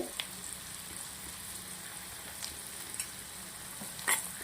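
Ginger, onion and garlic fry steadily in hot oil, a close, continuous sizzle with a few soft stirring knocks and no voices.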